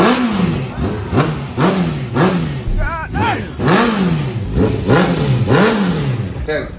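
A Honda CB650R inline-four motorcycle with an aftermarket Akrapovic-style exhaust revs repeatedly, about eight sharp rises and falls in pitch, loud and close, with a voice speaking briefly in between.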